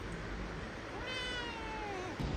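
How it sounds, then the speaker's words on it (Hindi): A cat meows once, a drawn-out rising and falling call, close and clear over a quiet indoor background. "अम्मा तेरे पीछे बिल्ली सोती भाई"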